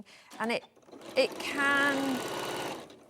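A sewing machine running a quarter-inch seam hums steadily and close for about two seconds, following a woman's brief speech.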